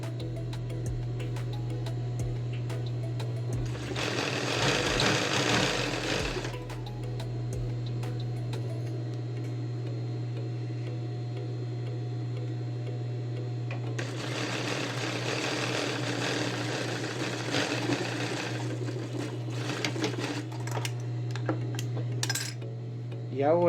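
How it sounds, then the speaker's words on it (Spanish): A sewing machine stitches a blouse yoke in two bursts of rapid, clattering needle action a few seconds long, separated by quieter pauses. A steady low motor hum runs underneath. "Voy a coser a 1 centímetro para limpiar la espalda superior"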